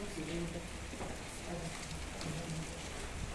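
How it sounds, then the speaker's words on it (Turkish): Steady rain pours down with a dense, even hiss that continues throughout, with faint voices murmuring underneath. "Ay yağmur yağıyor ya."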